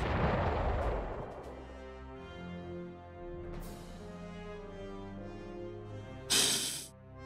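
Artillery blowing up a unit in the Panzer Corps strategy game: a few sharp blasts with ringing tonal game sounds between them, then a final loud noisy burst near the end.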